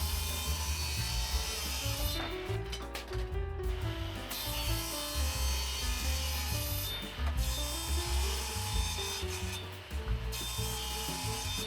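Saw cutting through MDF panels for a subwoofer enclosure, a rough grinding rasp running continuously and close with brief changes in pitch and strain.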